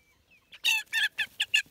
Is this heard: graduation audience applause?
no